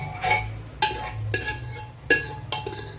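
Soaked, cooked broken wheat is added to a pan of ghee and stirred, with a spoon clinking and scraping against the pan in several sharp, separate strikes.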